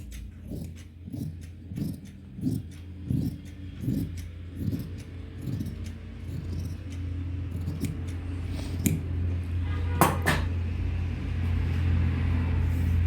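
Scissors snip through cloth for a salwar pattern in a steady rhythm of about a dozen close crunching cuts, then fade into a low background hum.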